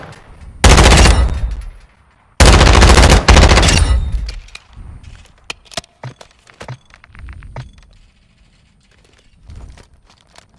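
V46 gun in a first-person shooter game firing two long, loud full-auto bursts near the start, followed by scattered softer shots, clicks and game effects.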